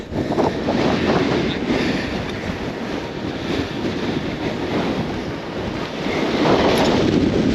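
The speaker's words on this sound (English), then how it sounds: "it is really blowing a hoolie up here" Strong wind roaring across a mountain ridge in the fells at Rannerdale Knotts, a loud continuous buffeting rush battering the microphone, swelling at the start and again near the end, with no voices.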